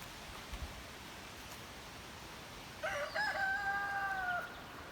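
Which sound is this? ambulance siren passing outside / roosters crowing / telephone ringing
roosters crowing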